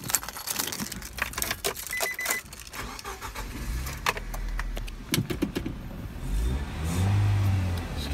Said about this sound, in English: Let's give the car a start now.